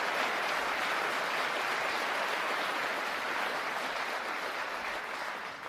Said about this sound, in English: I hope all of us will give a big round of applause and a prayer to Danny Phillips